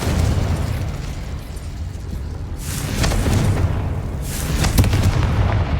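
Fiery Confringo spell blasts in Hogwarts Legacy, heavy booming bursts that swell over a constant rumbling battle backdrop, two stronger surges near the middle and end, with no voices.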